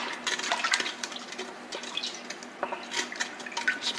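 Liquid poured into an Instant Pot holding a venison roast splashes and trickles, with scattered drips and light clinks of metal near at hand, irregular and fairly soft.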